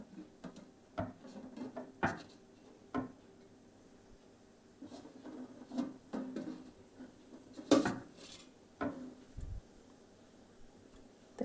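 A mixer grinder jar is handled and grated coconut goes in for a chana curry masala: scattered light clinks, knocks and rubbing sounds close by, with quiet gaps between them.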